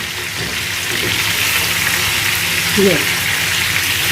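Chicken pieces fry in shallow oil in a pan for Arabic chicken mandi, with a steady, fairly loud sizzle and hiss running throughout as someone talks over it.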